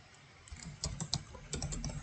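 A computer keyboard clatters with quick, irregular keystrokes while code is typed, close and fairly quiet, with no talking over it.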